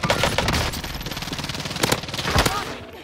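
Sustained automatic gunfire in the Warzone video game, a dense rapid stream of shots with a few louder single cracks near the end, close and loud, with game sound layered underneath.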